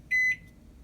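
A Toshiba countertop microwave gives one short electronic beep as its clock button is pressed, alone against quiet room noise.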